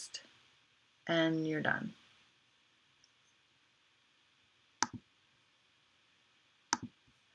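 Faint computer mouse clicks, two sharp isolated taps a couple of seconds apart, heard alone after a brief spoken phrase.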